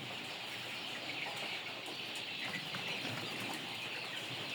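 Dense, continuous high-pitched peeping from many chicks fills a poultry house, a steady chorus with no pauses.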